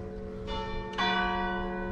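Church bells ring out at St Oswald's church in Crowle, North Lincolnshire, two clear strikes arriving about half a second apart and leaving a bright, ringing, slowly fading tone.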